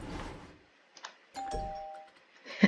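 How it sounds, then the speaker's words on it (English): A little doorbell chime rings when a plain door is clicked in the Planet Coaster park-building game, a clear sustained tone near the end after some soft clicks, with no talking over it. "When you click on the door, it's a nice, it's a little doorbell."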